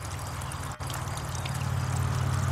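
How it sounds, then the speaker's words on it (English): Water trickling from upper Dutch bucket tomato planters down into the lower buckets, a steady, low, continuous pouring and dribbling with a brief dip near the start, no talk. "They drip right into the lower buckets."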